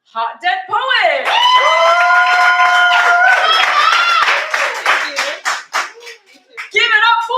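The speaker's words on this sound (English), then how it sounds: "Give it up for Hot Dead Poet!" An audience at a Halloween poetry party and open mic claps and whoops loudly for a contestant called Hot Dead Poet. High cheers ring over dense applause, then it tapers into scattered claps and voices before another burst.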